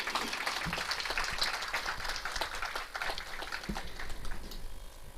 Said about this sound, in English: So please have a round of applause.